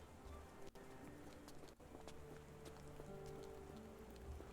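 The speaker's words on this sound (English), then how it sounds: "it still kind of rains even when you're technically inside" Steady rain patters on surfaces in a Victorian London scene of Sherlock Holmes: The Awakened, a continuous soft wash with a couple of brief dropouts and faint bird-like coos in the background.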